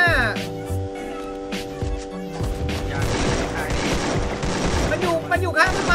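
AK assault rifle gunfire in the Free Fire video game: loud, rapid automatic bursts with booming shots under ongoing game sound, close and continuous throughout, with player voices mixed in.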